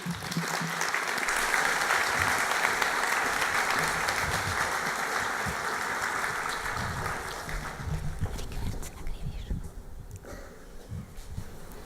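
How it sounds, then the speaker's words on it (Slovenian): An audience at a lifelong learning week opening applauds a speaker onto the stage, sustained clapping that swells early and slowly fades out, with faint murmuring near the end. "pospremimo ga z enim aplavzom"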